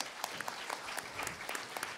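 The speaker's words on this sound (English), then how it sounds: "Give a round of applause for Chris" Applause from the audience at a diversity panel event, with brisk, fairly soft clapping heard at a distance and steady throughout.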